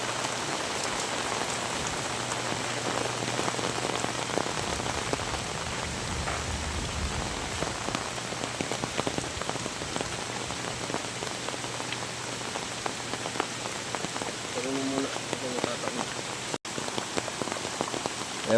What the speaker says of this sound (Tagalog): Nabutan pa ng ulan.